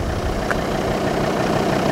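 Engine of a used Volvo XC90 idling steadily, a loud, continuous low rumble with no talking.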